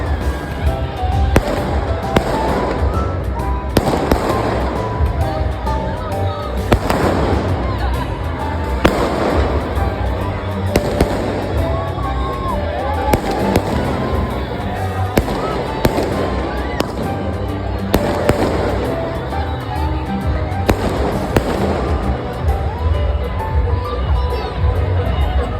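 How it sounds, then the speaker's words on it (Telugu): New Year fireworks and firecrackers bursting in a residential community at midnight, recorded from a balcony: a dense, continuous barrage of booms and crackling pops with repeated louder bursts, over a faint crowd murmur. "క్రాకర్స్ కూడా కాల్ చేశారనమాట మా వాళ్ళు"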